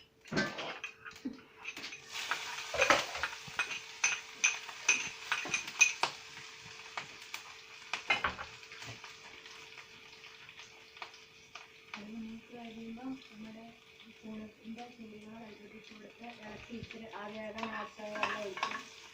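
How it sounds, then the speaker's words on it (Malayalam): Onion and curry leaves frying in hot oil with popped mustard seeds, giving faint sizzling beneath scattered clatters and scrapes of stirring in a pan, with a steady hum in the background. "ഇനി നമുക്ക് അതിലേക്ക് ഉള്ളിയും കരിവേപ്പിലയും ഇട്ട് കൊടുക്കാം"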